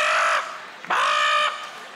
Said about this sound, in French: Bon, les bruits de corneille, je sais pas.